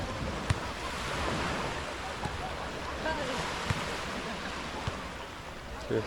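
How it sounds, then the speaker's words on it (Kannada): Sea waves washing ashore at Half Moon Beach, a broad, continuous hiss of surf with faint thuds now and then, steady and fairly near throughout. "ಸಮುದ್ರದ ಅಲೆಗಳ ಸೌಂಡ್ ಕೇಳೋದಕ್ಕೆ ಒಂಥರ ಚೆನ್ನಾಗಿರುತ್ತೆ"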